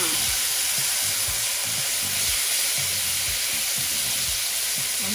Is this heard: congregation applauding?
no